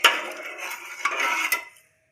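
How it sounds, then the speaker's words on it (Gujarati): A spoon stirs lapsi with sugar, cardamom and saffron in a metal pressure cooker, making a brief, close scraping and clinking for under two seconds before falling silent. "આપણે સરસ રીતે મિક્સ કરી લેશું."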